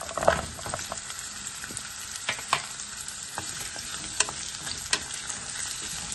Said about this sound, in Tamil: நல்லா இந்த பம்கின்னு கொஞ்சம் நேரம் வதங்கணும்